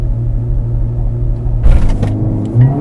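A Mercedes-AMG A 45 S, a 421 hp 2-litre hot hatch, holds a loud, steady low engine drone with launch control (race start) engaged, then rises with a brief surge and a mechanical clunk near the end.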